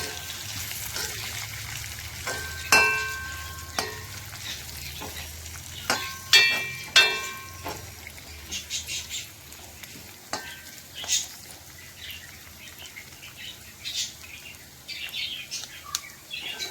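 A jackfruit seed dish frying in a pan on a low flame: a soft continuous sizzle with occasional clinks and scrapes of a spoon stirring against the pan, close and moderately quiet.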